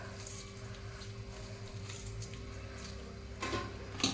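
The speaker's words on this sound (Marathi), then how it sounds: "ते असं हाताने पिळून त्याच्यातलं सगळं पाणी असं काढून घ्यायचं." Boiled, cooled soybean chunks are squeezed by hand to press out water, giving soft, close wet squishing and dripping sounds, with a brief louder squelch near the end and no talk.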